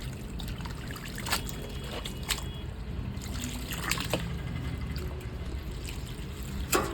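Freshly dug black turmeric rhizomes being rinsed in fresh water, soft trickling and splashing with small irregular sloshes and drips, fairly quiet and close, with no talking.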